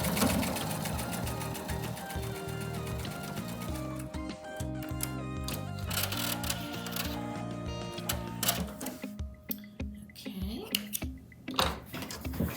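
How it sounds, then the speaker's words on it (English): A sewing machine stitches a quilt seam with a quarter-inch seam allowance in a fast, steady mechanical patter, close by, with a person talking over it partway through. "we were able to sew that entire seam"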